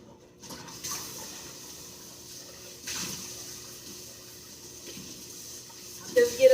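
Water running into a pot in a home kitchen for gravy comes in short bursts of faucet flow and splashing at close range, with a person talking over it.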